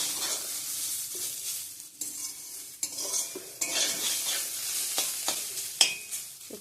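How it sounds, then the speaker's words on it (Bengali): Radish greens being stir-fried dry in a pan, a close sizzle broken by repeated scraping stirs of a utensil against the metal, irregular and busy throughout. "একটু ঝরঝরে শুকনো শুকনো শাক ভাজা করলাম, মূলো শাক ভাজা।"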